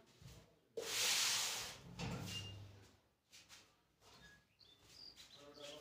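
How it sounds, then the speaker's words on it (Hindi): A door is opened at home after the power goes out, heard as one loud, rushing scrape near the start, followed by faint knocks, soft shuffling and a few thin chirps in a quiet room. "लाइट गई भाई, एक सेकंड रुको, मैं दरवाजा खोलता हूं"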